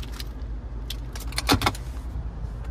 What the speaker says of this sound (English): And finally, here we have our key fob.